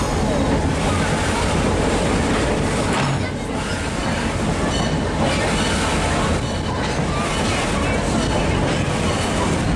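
A train rolls over a bridge in a continuous loud rumble of wheels and rail noise, close and steady throughout, with faint clatter and squeal in the roar.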